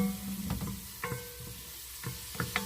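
Onions and green pepper fry quietly in a pot for homemade gravy, a soft steady sizzle with a few light stirring scrapes and taps.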